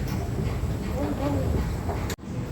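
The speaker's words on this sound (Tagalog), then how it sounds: "So, ito na tayo sa MRT. Aabangan natin yung pagdating ng MRT." Singapore MRT train at a station platform, a steady rumbling rush with hiss and faint squeals throughout, a brief break near the end, with murmur of people in the background.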